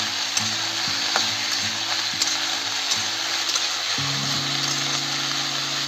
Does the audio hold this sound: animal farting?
no